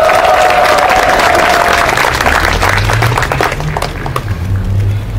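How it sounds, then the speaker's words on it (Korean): Loud audience applause at a Catholic priests' gathering, dense clapping and crowd noise filling the space, easing slightly toward the end as a voice begins to speak over it. "큰 박수 쳐주세요"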